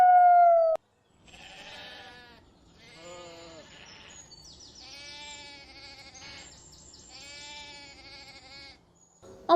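A flock of sheep grazing on a mountain pasture bleats in a run of overlapping, wavering calls, several animals close and clear one after another, preceded by a brief sharp tone that cuts off abruptly.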